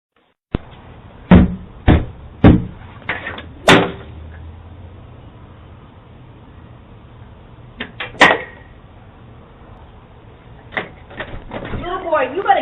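Loud, sharp knocks hit a door in irregular bursts, with pauses between groups of blows and a faint background murmur.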